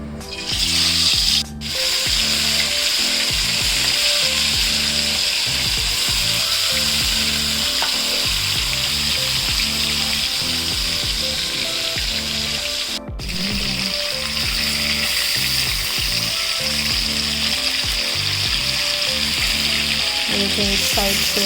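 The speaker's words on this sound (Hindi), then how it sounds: "फिर हमने उसमें फ़िश ऐड कर देनी है, फ़िश फ्राई करना है" Fish frying in hot mustard oil in a home kitchen pan, a loud, steady sizzle with dense crackling spatter that holds throughout, briefly dipping twice.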